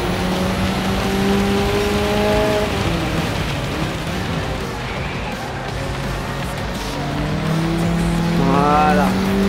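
Race cars, including a BMW Z8, skid and squeal their tires in Gran Turismo 7, with thin wavering squeals over a constant roaring engine and road noise, most clearly at the start and end.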